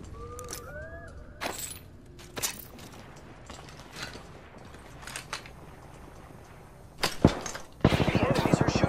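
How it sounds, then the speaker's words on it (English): Enemy gunfire in Apex Legends, scattered sharp shots popping at intervals over a low game ambience, mostly moderate in level with a louder burst near the end; a voice speaks briefly early on. "The enemies are shooting at me."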